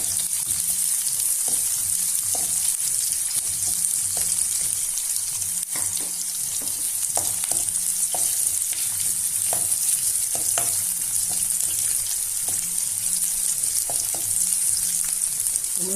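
Mushrooms brown in a frying pan for a kadai mushroom curry, with a loud, steady sizzle and hiss that holds throughout, broken by scattered small clicks and scrapes of stirring, close up with no talking.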